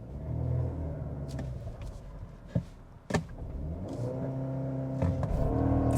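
A 2026 Audi Q3 TFSI small luxury SUV launching hard with a clutch dump, the engine rumbling and revving up through rising gear tones, with a couple of sharp shift thumps midway.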